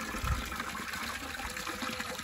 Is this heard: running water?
yes